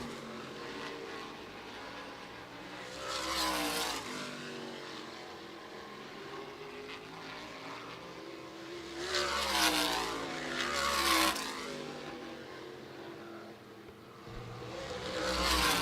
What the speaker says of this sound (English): So 4 cars back out onto the speedway.